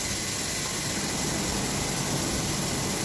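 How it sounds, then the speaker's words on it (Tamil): A mixer grinder blends small onions with mushrooms into a paste, producing a loud, constant whirring roar that stays steady and unbroken from start to end. "அதை அது கூட சேர்த்து நல்லா பேஸ்ட் மாதிரி அரைச்சிக்கோங்க"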